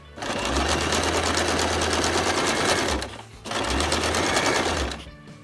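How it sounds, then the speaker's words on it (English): A sewing machine stitches a waistband onto trousers in two fast, continuous runs of rapid needle chatter with a short pause between, close and loud. "Here I'm going to sew the waistband onto the trousers."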